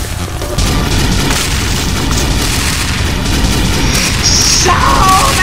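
Rocket explosions in the flash game Thing Thing Arena, a loud, dense, continuous rumble of booming blasts with little gap between them, plus a few high electronic game tones near the end.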